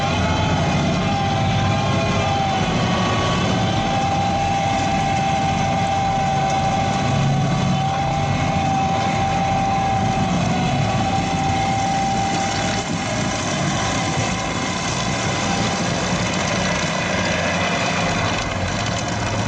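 An MTZ 80 tractor engine drones steadily and loudly at idle, a low mechanical rumble with a constant whine running throughout, no voices.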